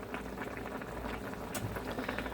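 Rice simmering in a pot of boiling water for Spanish rice, a soft continuous bubbling with small pops, steady and fairly quiet throughout.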